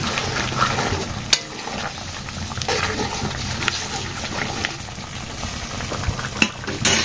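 A curry cooks in a pan with cumin and garam masala paste, giving a continuous close sizzle with stirring scrapes and occasional sharp utensil clinks.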